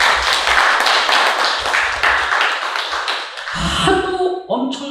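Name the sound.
audience clapping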